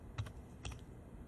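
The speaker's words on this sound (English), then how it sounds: "At the moment, I'm typing a complex number" Quiet clicks of a computer keyboard being typed on, two short bursts of keystrokes over a low background hum, with no voices.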